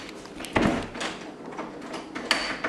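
A locked basement door is tried: a sharp rattling knock from the handle and frame near the start, a quieter bump partway through, and another clack near the end, all close and loud in a quiet room.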